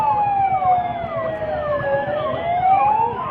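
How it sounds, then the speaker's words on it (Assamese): Ambulance and fire brigade sirens blare during a mock drill in Golaghat, several loud wailing tones rising and falling over one another continuously throughout. "এম্বুলেন্সৰ লগতে ফায়াৰ ব্ৰিগেডৰ শব্দত সমগ্ৰ গোলাঘাটৰ পৰিৱেশ কঁপি উঠা দেখিবলৈ পোৱা যাব"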